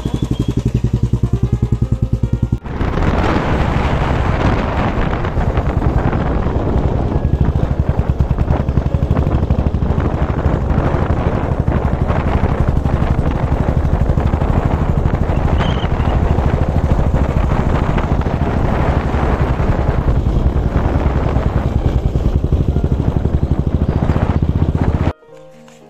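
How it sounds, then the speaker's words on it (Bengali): Motorbike riding along a road, a loud engine drone with rattling, buffeting wind noise sustained for over twenty seconds, close to the rider, ending abruptly near the end. "বহিরগাছি পর্যন্ত আমরা বাইকে যাচ্ছি, অটোতে আর যাচ্ছি না"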